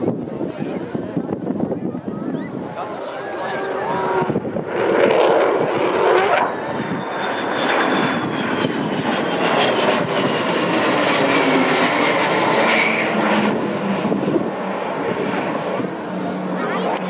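The Avro Vulcan XH558 delta-wing jet bomber roars past at a Scottish airshow in 2014, a swelling, loud rushing engine noise that builds and sustains with a crowd and a commentator talking over it.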